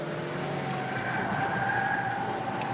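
Cheap small hatchbacks, a Suzuki and a Peugeot, racing each other, heard as a steady close engine drone with sustained tire noise and a rising whine, no talking.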